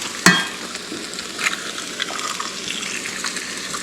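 Eggs cracked into a hot pan of pre-cooked potatoes frying, a sharp crack and splash near the start followed by steady close sizzling with small pops and spatters.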